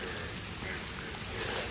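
Heavy rain from the year's first big downpour pours steadily, a constant broadband hiss with faint droplet detail, unbroken and moderately loud.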